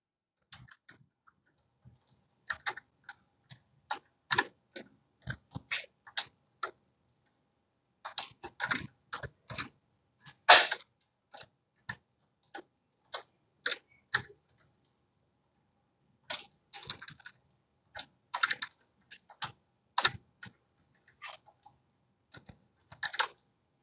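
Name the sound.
typing temperatures on a computer keyboard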